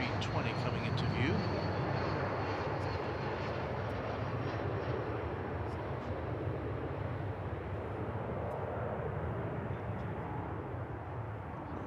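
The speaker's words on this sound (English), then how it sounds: "As we welcome American Flight 1850 coming in from Monterrey, Mexico, an Airbus A320 coming into view." An American Airlines Airbus A320 jet approaches to land at Dallas Fort Worth airport, a steady broadband engine roar holding loud and even throughout, with no break.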